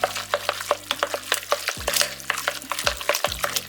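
Artichoke dip ingredients being mixed in a bowl, a run of quick scraping, clicking spoon strokes in a steady rhythm, with a low hum underneath broken by a few dull knocks.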